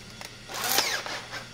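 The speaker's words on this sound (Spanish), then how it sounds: "Ahora con el taladro, a mí me gusta hacerlo girar con el taladro para no andar con la mano" A cordless drill spins over a Piva two-stroke engine that has no spark, giving a brief near whir that rises and falls in pitch, alone with no talk.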